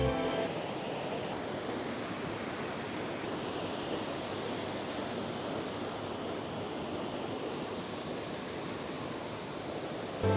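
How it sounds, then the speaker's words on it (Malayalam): Thommankuthu waterfall in Thodupuzha, Kerala sends out a continuous broadband rush of falling water, steady and enveloping with no pauses and no talking. "ഇതാ കാണുന്നത് വെള്ളച്ചാട്ടം."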